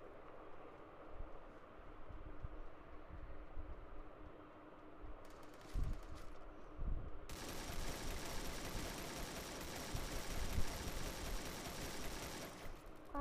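Automatic AK rifle fire in a video game, a dense sustained burst of rapid shots filling the second half after scattered earlier pops, loud and continuous with no talk.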